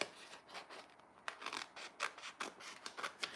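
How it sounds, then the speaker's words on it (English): Scissors snipping a small piece off a sheet of paper during notebook crafting, a quiet series of short close cuts and rustles in an uneven rhythm, with no talking. "I'm just going to cut a little bit of it off."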